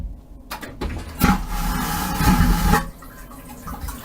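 A cruise ship cabin toilet on the NCL Breakaway studio cabin flushes with a loud, steady vacuum rush that lasts about two seconds, then cuts off abruptly into quiet room noise.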